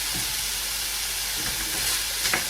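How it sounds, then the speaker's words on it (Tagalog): Carrots and green beans sautéing in a pan for lumpia filling, a continuous close hiss of frying with a few soft stirring knocks near the end. "igisa lang nating maigi ito hanggang sa medyo malambot na yung carrots"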